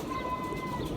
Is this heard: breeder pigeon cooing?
yes